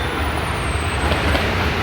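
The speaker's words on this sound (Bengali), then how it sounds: "ন্যাশনাল কলেজ মেট্রো স্টেশনের সামনে রয়েছি" Street traffic outside National College metro station in Bengaluru: a steady, dense roadway rumble with heavy vehicles like buses and trucks passing, continuous and fairly loud throughout with no talk.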